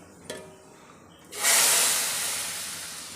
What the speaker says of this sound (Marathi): आणि ही तुपाची फोडणी आता मी डाळीवर टाकणार आहे